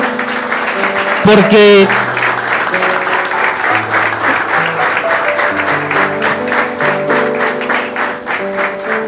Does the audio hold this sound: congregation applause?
yes